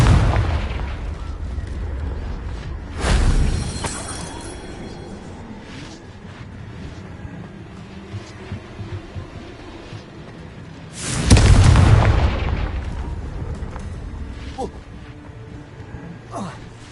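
Two loud, booming explosions of a destructive fire spell in a Harry Potter–style video game, one around the three-second mark and a bigger one near the end, each a sudden blast that rumbles away, with game ambience between them.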